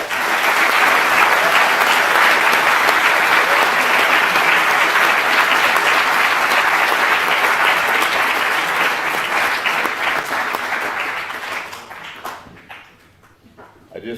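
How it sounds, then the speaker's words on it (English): Dense, steady applause from a large audience at an evening assembly fills the hall for about twelve seconds, then tapers off and fades near the end. "Let's give them a round of applause."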